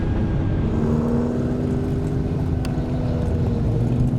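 A twin-turbo Shelby GT500 on a straight-line half-mile pass in Indiana, its engine holding a loud, steady, close drone for the whole stretch with no one talking.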